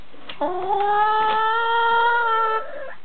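A single hen in a hen house gives a drawn-out, tonal cackling call lasting a couple of seconds, close and clear with no voices.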